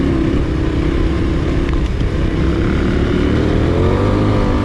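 A KTM 1090 adventure motorcycle ridden off-road on an easy trail, its engine a steady, loud, dense roar mixed with heavy wind rush, continuous and close throughout with no talking.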